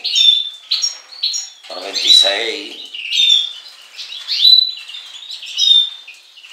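Caged greenfinch and hens chirping in repeated bright tweets and short calls, close and loud in bursts roughly every second, while someone speaks briefly in between.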